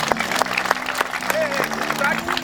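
A church congregation claps together, a dense patter of hands heard under a voice that keeps speaking and chanting over it.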